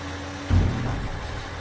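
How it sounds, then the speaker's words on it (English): A tractor engine in Farming Simulator 22 on Calmsden Farm, idling low and steady before a loud thump and rumble near the middle that settles into a fading mechanical drone. "So when this is done, we'll shut this tractor off."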